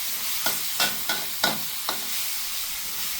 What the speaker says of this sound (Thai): ให้เราใส่กุ้งที่เราเตรียมไว้ใส่ลงไปเลยครับ แล้วก็ผัดให้เข้ากันนะครับ